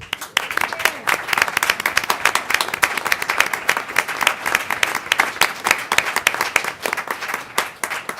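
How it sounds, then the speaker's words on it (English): A board meeting audience breaks into sustained, dense applause for the teachers present, many hands clapping steadily and close for the full stretch without letup. "will you please stand up so we can applaud you?"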